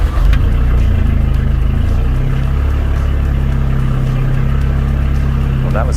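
A Volvo 242 GLT Turbo engine cranks and catches, then runs steadily with a loud, continuous low rumble close by, no throttle applied.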